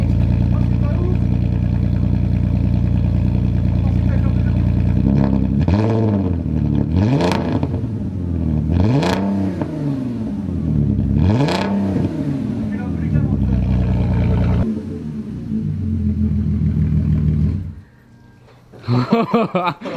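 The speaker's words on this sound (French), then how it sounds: "Voir ce que c'est un échappement libre." A Porsche Cayenne engine with a straight-pipe free-flow exhaust idles loudly, then blips through several sharp revs that rise and fall, ending with a brief drop and a final burst of revving.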